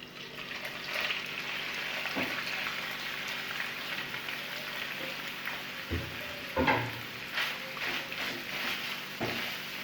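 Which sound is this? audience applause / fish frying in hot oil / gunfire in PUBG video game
fish frying in hot oil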